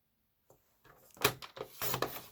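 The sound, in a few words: paper trimmer cutting card stock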